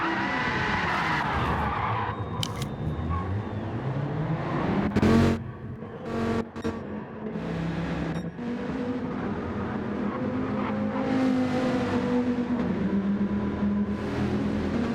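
Race cars lap Laguna Seca during qualifying in a sim racing game, engines whining up and down through gears, with tire squeal and cars passing close, continuous and loud throughout.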